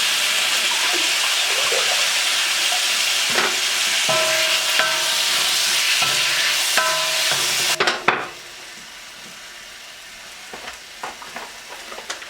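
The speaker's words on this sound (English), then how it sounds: "I'm just going to add about half a cup of our sauce in there, just to help those peppers and onions cook" Peppers and onions sizzle in a pan with Beijing beef sauce, a loud steady frying hiss with stirring scrapes for about eight seconds, then a clatter and the sizzle drops to a quieter simmer with occasional utensil taps.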